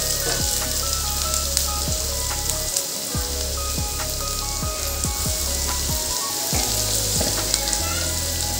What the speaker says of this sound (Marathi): आता आपल्याला कांदा चांगला तांबडा कलर येऊन तर मस्त थोडासा लालसर होऊन भाजून घेऊ आपण